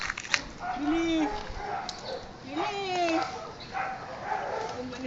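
Dog yips and whimpering barks, several short high calls spread across the moment, fairly close, mixed with a person talking nearby.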